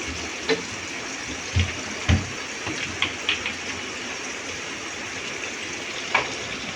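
Steady running tap water gushes continuously while something is rinsed underneath it in a home kitchen, with a few louder clunks and splashes from handling utensils along the way.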